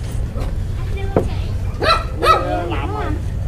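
Several short, sharp barks and yelps from a dog beside a family's old, rotting houseboat come in a quick burst over low background rumble, fairly close.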